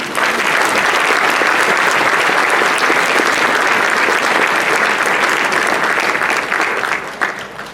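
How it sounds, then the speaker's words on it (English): Audience applause at an awards ceremony and officer installation, a dense, steady roomful of clapping that holds loud for several seconds before tapering slightly at the end. "can we give a round of applause to each person in this room"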